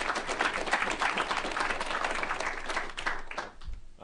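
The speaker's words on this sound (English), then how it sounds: "let's give a round of applause to Mike" A lecture-hall audience at an MIT poker class applauds a guest speaker, a dense burst of clapping that fades away after about four seconds.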